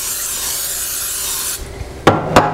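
Cream-style corn casserole ingredients stirred together in a bowl, a steady close scraping and rubbing that runs continuously, then thins out before two sharper knocks near the end.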